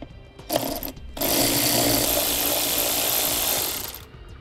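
A 10 mm nut on a vehicle fascia is removed with a socket on an extension. A short whirring burst is followed by a steady, close, loud tool drone lasting about three seconds, which then fades.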